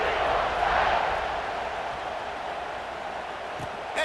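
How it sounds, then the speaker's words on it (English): Stadium crowd in EA Sports College Football 26 buzzing after a score, a loud, dense roar of massed voices that swells early then settles into a steady hum. "this crowd is buzzing after that last score"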